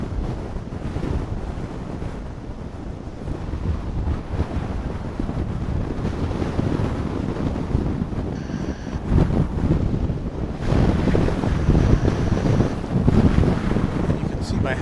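Gusting southerly wind buffets the microphone beside the runway at DFW airport, a steady loud roar of turbulent noise that swells stronger in the second half, with a faint high whine from a distant jet.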